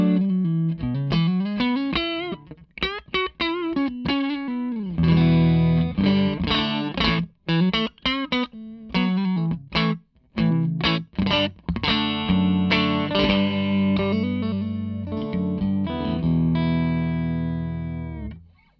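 Clean electric guitar, a Music Man Cutlass through a Victory V40 tube amp, playing a melodic line of plucked notes and chords, warm and sustained, moderately loud with no voice and no reverb.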